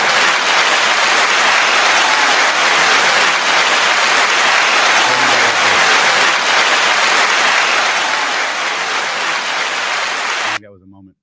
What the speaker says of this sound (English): Wait, applause.